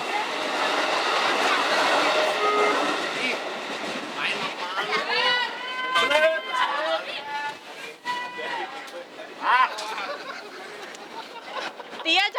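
A train rushes past at close range in a loud, continuous roar with a rattling rhythm, while people talk and shout excitedly over it.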